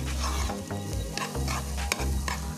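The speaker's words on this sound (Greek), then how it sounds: "Να κουνήσω λίγο εδώ το τηγανάκι μου." Food sizzles loudly and steadily in a frying pan being shaken on the stove during a Greek cooking show, with the crackle continuing without pause over a low rumble.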